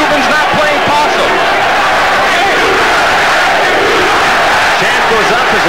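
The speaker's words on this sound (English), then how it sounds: "The crowd responding to Morel's comeback in the second round." A loud boxing arena crowd cheers Eric Morel's comeback against Maikro Romero in an Olympic bout, a dense, sustained roar of shouts and yells filling the whole stretch at close, overwhelming volume.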